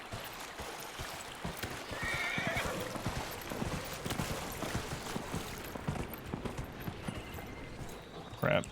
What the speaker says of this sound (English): Alright, I'm getting on the horse.